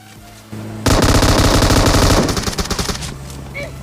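Rapid automatic gunfire in the mobile battle royale game PUBG, a loud sustained burst of closely spaced shots lasting about two seconds, then trailing into fainter scattered fire.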